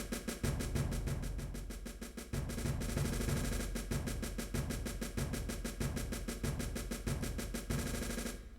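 Percussion track with a steady snare and bass drum beat, loud and continuous, with regular rhythmic hits and a brief break partway through, no voices.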